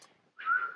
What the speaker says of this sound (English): this is how you whistle without laughing